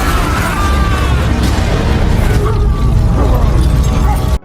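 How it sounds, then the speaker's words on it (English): A movie bomb hidden in a bag bursts into a loud, sustained roaring blast with crackling debris and rumble, heavy and continuous throughout before cutting off abruptly at the end. "The explosion incapacitates some gangsters, and the rest are knocked out by the blast"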